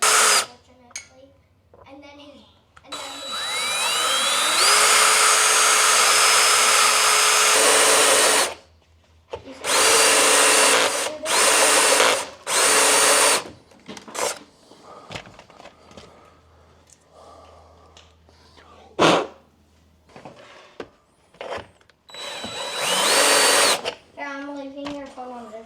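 A power drill bores holes for rivet nuts in the body of a 6th gen 4Runner during a snorkel install, running in several loud sustained bursts and short pulses with pauses and bits of quieter handling between.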